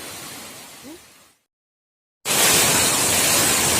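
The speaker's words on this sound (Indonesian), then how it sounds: "Ini namanya air terjun Salegoa." Salegoa waterfall in Gowa Regency, South Sulawesi, roars as a broad, steady rush of falling water, loud and close, broken by a brief total silence before the torrent resumes even stronger.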